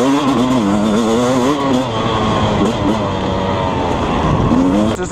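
A 2020 Beta 250 two-stroke trail motorcycle engine on the move, with a loud, continuous close-up drone whose pitch rises and falls as the throttle is worked.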